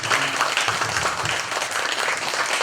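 Applause from the assembled congregation at a Buddhist temple tea-offering ceremony at Seongmoam in Gimje, a steady dense patter of many hands, moderately loud and sustained through the whole span without talk.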